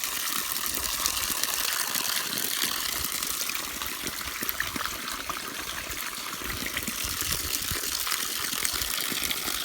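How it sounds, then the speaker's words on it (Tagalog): Strong, steady rush of water gushing continuously up from the ground, loud and close, with broadband splashing that never lets up. "Ayan ang tubig. Napakalakas. Galing sa lupa."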